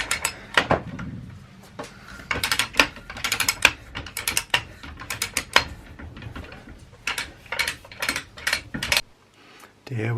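An old Alrowa No. 25 hand pipe threader is ratcheted back off a threaded water pipe, making close, irregular bursts of metallic clicks and clacks with brief pauses between strokes.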